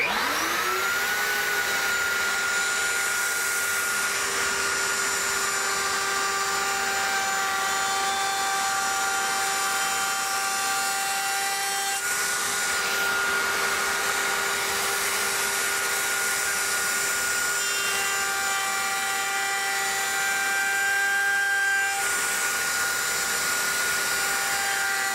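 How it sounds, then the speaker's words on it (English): A router fitted with a 1/4 inch cove bit cuts a cove around a wooden plaque, a loud steady high-pitched whine held without a break for the whole stretch. "I've got a 1/4" cove bit in the router, and I want to go ahead and cut the cove around the plaque piece"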